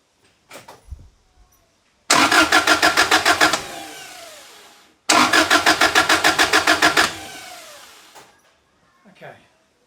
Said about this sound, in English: just turn it over to get some oil moving around the engine